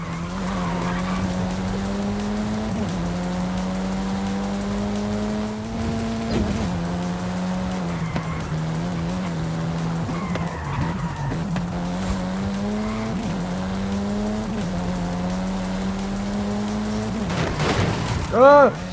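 Car engine in the Forza Horizon 5 racing game, a loud sustained revving drone that climbs and drops through gear changes, with tire squeal and skidding near the end.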